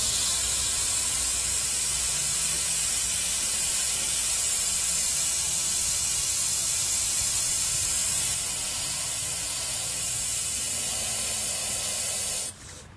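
A CNC 3040 machine's airbrush sprays acrylic paint in a constant, close hiss that runs steadily for about twelve seconds before cutting off abruptly.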